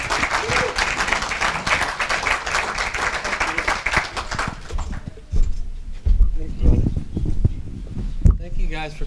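An evening audience applauds a performer at a Music Monday event, loud sustained clapping for the first half that thins out, followed by scattered noises and a voice.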